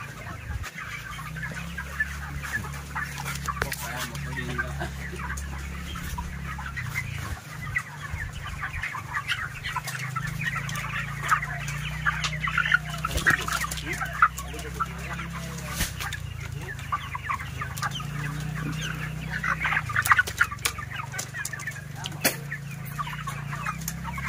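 Broiler chickens and chicks on a poultry farm cluck and cheep steadily, many birds together, over a low constant hum of farm machinery.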